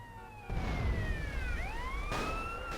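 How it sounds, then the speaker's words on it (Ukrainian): A fire truck siren in the video game GTA San Andreas wails in sweeping rising and falling tones over a steady low engine rumble, loud and continuous with no talking. "Пожарка приїхала!"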